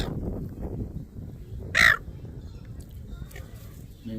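A crow gives a single loud, harsh caw close by amid evening birdsong in Australia, standing out over a low murmur of background noise.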